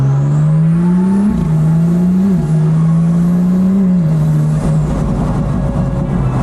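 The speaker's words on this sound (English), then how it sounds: "The exhaust, obviously the open air exhaust helps it a lot" A loud Audi car engine drones close up through a raw open exhaust, holding high revs with small jumps before dropping into a rougher rumble.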